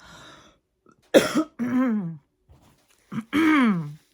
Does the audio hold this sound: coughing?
yes